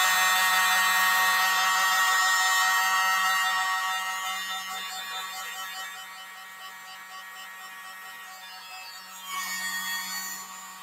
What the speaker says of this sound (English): Oh, he's got his leaf blower.